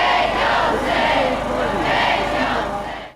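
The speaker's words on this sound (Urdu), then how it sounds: "مظاہرین فلسطینی پرچم اور پلے کارڈز اٹھائے فلسطین کی آزادی کے حق میں نعرے لگاتے رہے" Crowd of protesters at a pro-Palestine rally chanting slogans in loud, rhythmic surges of massed voices, continuous for a few seconds before fading out.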